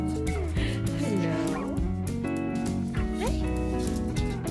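Dogs bark and yip repeatedly, loud and close at a Singapore mall, with excited chatter and other voices mixed in throughout.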